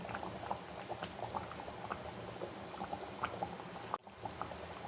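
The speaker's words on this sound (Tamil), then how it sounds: "இந்த மீன் நல்லா கொதி வரட்டும்" Bat fish (pomfret) curry simmers in a pot with a steady, dense bubbling and popping at an even level, briefly dipping near the end.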